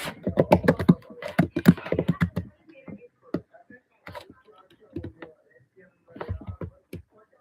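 Rapid bursts of typing on a computer keyboard as code is written, with dense clattering runs at first, then sparser scattered keystrokes and pauses, up close.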